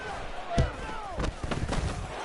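A football field goal attempt, a short chip-shot kick from the left hash late in the game, gives a single sharp thump, followed by more thuds and crowd rumble while a commentator talks.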